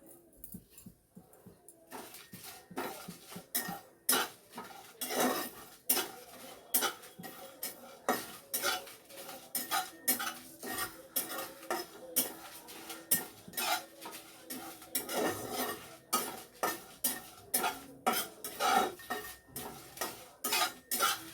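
Ingredients for Kashmiri chicken kanti stirred in a cooking pot, with steady rhythmic scraping and clinks of a spoon against metal going on for a long stretch.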